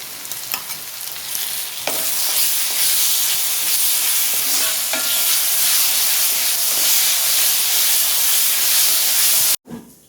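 Browned onions frying in a pan as ginger-garlic paste goes in for a Kerala-style beef biriyani: a loud, steady sizzle and hiss with occasional stirring scrapes, cutting out abruptly just before the end.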